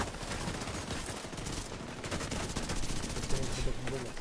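Dense, continuous gunfire from around ten NPC enemies firing at once in The Division 2, a busy wash of rapid shots with a voice talking over it.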